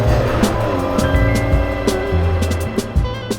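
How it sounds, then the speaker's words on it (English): A new Porsche 911T engine heard from inside the cabin, a steady rear-mounted engine note with shifting pitch and revs, moderately loud and continuous with occasional brief clicks, no talking over it. "Nice engine noise, interesting and characterful without being offensive and intrusive in any way."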